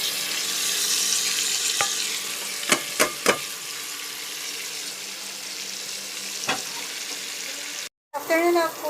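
Ingredients sautéing in a pan with chili for a Bicol Express-style fish dish, a steady sizzle broken by a few sharp utensil scrapes and taps, then a brief silence before a short burst of clatter.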